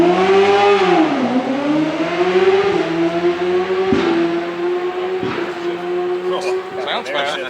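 A drag racing motorcycle at Music City Raceway accelerates hard with an air shifter, its loud engine note climbing and then dropping sharply at each quick shift, fading as it pulls away.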